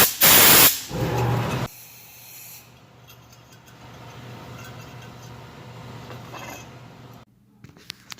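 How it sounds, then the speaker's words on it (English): Brake cleaner sprayed into the fuel fount of a Coleman 502 stove: a loud burst of pressurized hiss up close, a second shorter spray, then a long fainter fizzing and rustle that fades out. "I just got some brake clean in the fount here."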